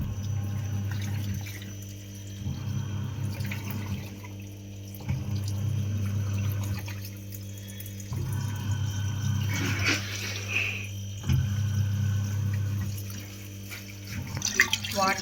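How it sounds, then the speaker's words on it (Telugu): Water draining from a Samsung top-load washing machine, a steady watery flow with a low hum that stops and starts in sections, close by, with a few brief clatters near the end. "సో వాటర్ ఇలా వెళ్ళిపోతుంది"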